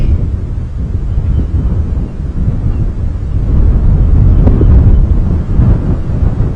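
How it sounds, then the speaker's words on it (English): Heavy wind buffets the microphone during a morning safari drive at Djuma Game Reserve, a loud, continuous low rumble that swells and gusts, with no other sounds standing out. "It is incredibly windy."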